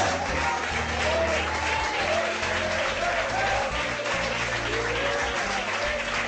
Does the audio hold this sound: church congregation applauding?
yes